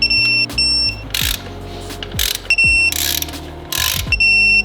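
A ratchet clicks in quick bursts while bolting the upper intake manifold onto a Toyota Tacoma during a supercharger install, close and crisp, several separate runs of rapid pawl clicks with brief pauses between.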